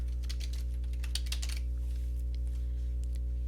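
Quick bursts of keystrokes rattle on a computer keyboard for about a second and a half over a steady electrical hum, then give way to a few scattered, fainter clicks.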